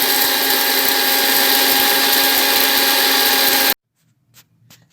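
A kitchen mixer grinder pulverising kalonji, fenugreek seeds and ajwain together, a loud harsh whirring grind that runs steadily for several seconds then cuts off abruptly, leaving near silence with a faint clatter.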